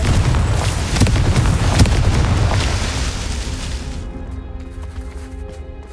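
Confringo blasting spell explosion in the video game Hogwarts Legacy, a loud booming blast with crackling bursts that rolls on and fades into a sustained rumble.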